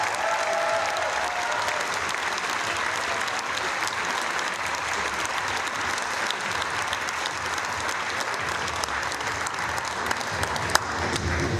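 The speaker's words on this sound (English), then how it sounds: "Ladies and gentlemen, giving a massive round of applause." A crowd at the British Lead Climbing Championships applauds steadily for over ten seconds, the clapping dense and even, fairly distant and moderately loud.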